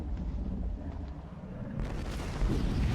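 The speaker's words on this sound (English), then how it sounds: "Big loot explosion." Loot explosion in the video game Borderlands 2 is heard as a dense, rumbling burst of blasts and debris, loud and continuous, with a sharper crackling surge about halfway through.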